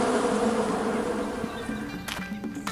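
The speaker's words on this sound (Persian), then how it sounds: "نگاه کن، زنبورا دارن از اون تو میان بیرون." Cartoon bees pouring out of a gourd hive set beside a tree, a steady buzzing drone that fades slightly toward the end, with a few faint clicks and no speech.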